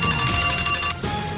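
A game show round in which strike three is called, marked by a loud sustained electronic tone under the show audio that cuts off sharply after about a second, followed by quieter sound.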